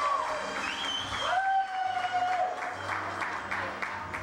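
Pageant show crowd applauding after a contestant, steady clapping mixed with gliding, sustained tonal whistles or music over the top, fairly loud and continuous throughout.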